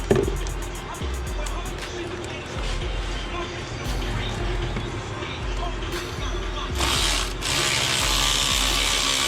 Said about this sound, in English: Time to put a ratchet on it